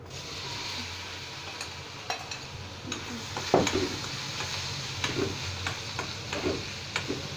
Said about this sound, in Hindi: इसके लिए हम इसमें कढ़ाई में तेल गरम करेंगे, जीरा डालेंगे